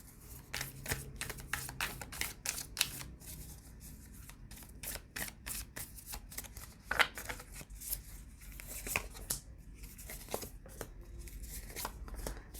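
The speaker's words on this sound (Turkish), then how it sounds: "sonuç kartları çekeceğim" Tarot cards shuffled and drawn during a reading, a run of quick crisp riffling clicks and soft slaps repeating steadily throughout, close and fairly quiet with no voices.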